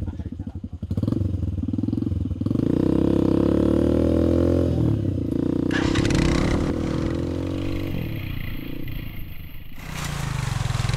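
A motorcycle labors up a narrow mountain trail less than two feet wide in Ifugao. The engine drones loudly, its pitch rising and falling as it strains, with clattering and scraping from the rough path.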